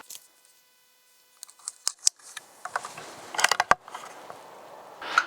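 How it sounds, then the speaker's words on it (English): A CZ 457 Varmint synthetic rifle in .17 HMR has its bolt cycled after a quiet pause, producing sharp metallic clicks and clacks up close, with a final slide and snap near the end. "that's 45-degree lift to cock and cycle the action"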